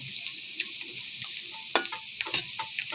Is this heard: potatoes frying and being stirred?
yes